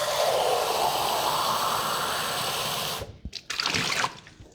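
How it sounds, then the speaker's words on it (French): Tap water runs steadily into a juice container being rinsed for about three seconds, a close, full rushing stream that cuts off abruptly, followed by a few brief splashes and sloshes. "Je vais aller rincer ça ici."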